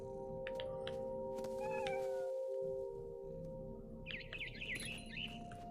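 Cat meows in the video game What Remains of Edith Finch, a couple of wavering, drawn-out calls over a steady ambient game drone, followed by a burst of quick high chirps from a bird.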